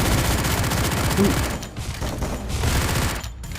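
Rapid, continuous automatic gunfire from the Free Fire video game with an XM8 rifle, loud and dense throughout, with brief dips between bursts.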